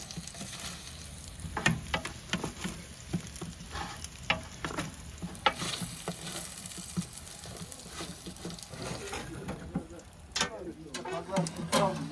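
Lamb frying in a pan for a Turkish roast lamb dish, giving a steady broadband sizzle with stirring and scraping clatters throughout, while a voice talks intermittently over the cooking.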